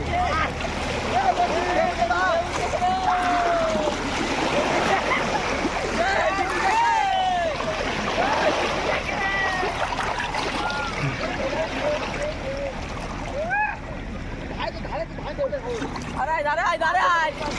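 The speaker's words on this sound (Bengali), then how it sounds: "জাহাজটা চলে গেছে আর প্রচুর ঢেউ আসছে এবার" River waves wash and splash against the bank in the wake of a passing motorized boat, a continuous watery churn with people talking and calling out over it.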